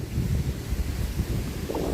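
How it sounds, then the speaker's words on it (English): Strong gusts of Storm Darragh buffet an outdoor microphone, a steady low roaring rumble with uneven surges throughout and no voices. "Sorry about the wind noise if there's any."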